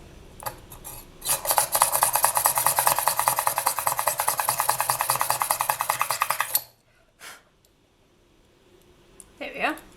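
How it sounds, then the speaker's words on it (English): A drill whirs steadily for about five seconds with a gritty, rasping bite into polymer clay, then stops; a brief clatter and a little handling noise follow. "Now we're going to take a drill."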